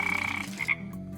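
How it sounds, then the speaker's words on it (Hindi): A large pond frog gives one short, fairly faint croak, heard alone. "उन्हीं में एक बड़ा सा मेंढक भी था"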